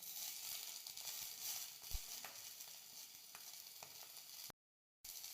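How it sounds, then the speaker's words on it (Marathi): Garlic and chopped green chillies frying in hot oil, a steady, fairly faint sizzle with occasional crackles and a brief stir, with no voices. "लसूण छान खरपूस भाजला की त्यामध्ये आपल्याला कट केलेली मिरची घालायची"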